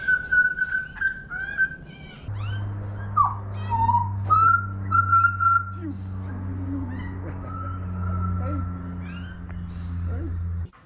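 Birds singing and whistling on a morning in Sydney, repeated chirps and calls from several birds over a steady low hum, with voices talking briefly in between.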